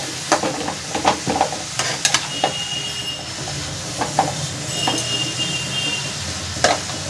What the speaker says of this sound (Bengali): লবণ হলুদ দিয়ে ভালো করে এবার এটাকে লাউটাকে মিশিয়ে নিচ্ছি